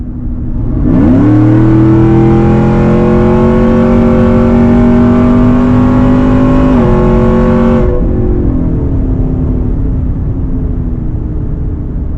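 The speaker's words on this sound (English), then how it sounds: "the Corsa exhaust is pretty docile when you're cruising, but when you get into it, this thing is an absolute beast" Supercharged 2018 GMC Yukon Denali with a Katech Whipple blower and Corsa exhaust revs hard from about one second, a loud rising engine roar holding for seven seconds before cutting back to a low idle rumble.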